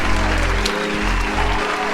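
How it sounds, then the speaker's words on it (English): Applause from a podcast audience, a steady broadband wash of clapping over a low hum, fairly loud and continuous for the whole moment. "We gonna clap it up for that one."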